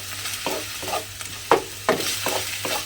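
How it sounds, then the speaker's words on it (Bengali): Garlic and ginger paste fries in oil in a pan with a soft continuous sizzle, while a spoon stirs and scrapes in a steady rhythm of about eight strokes, two of them sharper knocks. "এবারে মশলাটাকে একটু আমাকে ভাজা ভাজা মতো করে নিতে হবে"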